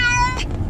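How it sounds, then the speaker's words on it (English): A cat yowls in a short, strained meow with a bright tonal cry that breaks off into noise, heard close up while being taken to the vet. "Meow. Meow, meow, meow, meow, meow, meow"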